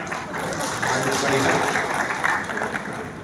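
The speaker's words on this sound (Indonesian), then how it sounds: "Boleh tepuk tangan." Seminar audience clapping on cue at a talk on notary certification for Islamic banking, a steady moderate round of applause with a faint voice mixed in.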